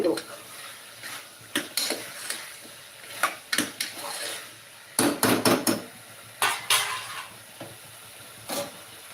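Veg kurma is stirred in a pan with repeated close clatters and scrapes of a spoon against metal, coming in irregular bursts over a soft simmering background.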